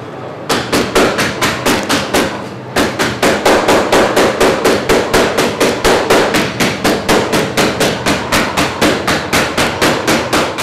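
Steady, rapid repeated thuds of strawberries being bashed inside a bag with a ladle, with a brief pause near the start before the rhythmic pounding continues.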